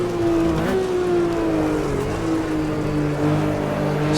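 Several Porsche 911 RSR 3.0 race cars in Automobilista 2 on the 1970s Red Bull Ring, engines droning loud and steady with a shifting pitch as they run close together, no talk.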